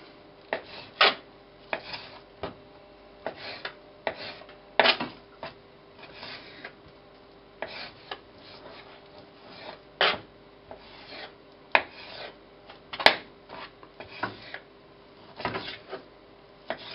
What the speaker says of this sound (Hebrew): גם את השומן אני חותך